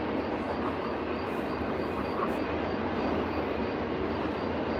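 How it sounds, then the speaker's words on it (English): A passing train, a loud continuous rumbling roar of rail cars that stays dense and steady for the whole stretch, with no talking over it. "Is that a train?"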